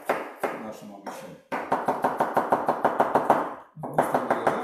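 A knife chops ginger rapidly on a cutting board, brisk even strokes in quick bursts with short pauses between runs, close and loud.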